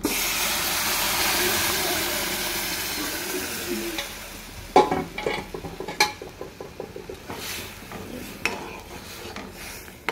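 A loud hiss of hot tempering oil fades as lentils are stirred in, followed by scattered scraping and clinking of a spoon against the pan.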